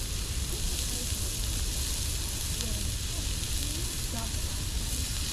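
Minced garlic and diced onion sizzle on a Blackstone griddle at a campsite, a loud, dense, steady frying hiss that runs without a break from start to finish.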